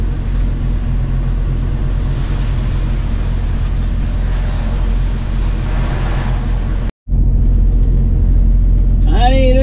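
A transport truck rolls slowly through a roundabout at about 15 km/h, a steady low engine rumble and road noise filling the cab, broken by a brief cut before the drone resumes.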